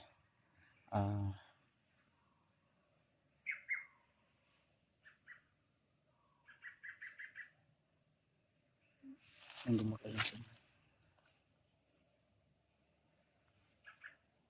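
In a mountain forest, a bird gives a few faint, scattered calls and short chirping runs, framed by two louder bursts of noise nearby.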